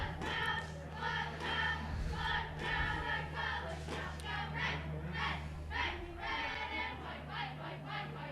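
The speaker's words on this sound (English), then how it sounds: "We got the full complement of cheerleaders doing the cheer out there." Cheerleaders at a varsity boys' soccer game, Stanwood against Arlington, chant a cheer outdoors: rhythmic, repeated group shouting from a distance that carries steadily over a low crowd murmur and wind-like rumble.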